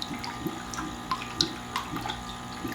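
Water runs and splashes steadily into a container, with small gurgles and drips over a constant trickle, treated with vitamin C crystals for a seed-starting soil mix.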